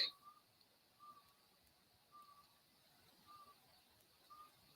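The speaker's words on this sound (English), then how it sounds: "there's like a weird noise going on outside. I think it's an owl" An owl calling outside at night, five soft, evenly spaced hoots about one second apart, faint and distant against a quiet background.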